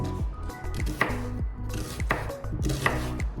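A knife rapidly dices an onion on a cutting board, quick repeated thuds in bursts, close and crisp with no talking.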